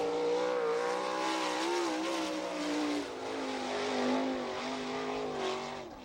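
A 410 winged sprint car at speed on the Attica, Ohio dirt oval during an All Star Circuit of Champions qualifying lap, its engine whining steadily with rising and falling pitch as it powers around the turns, loud and close.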